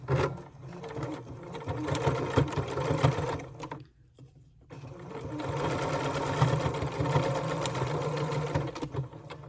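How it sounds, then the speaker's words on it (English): A sewing machine stitches across folded denim jean flaps, running in a steady, loud mechanical whir that stops briefly for about a second midway, then resumes at the same close, even pace. "then sew across both flaps"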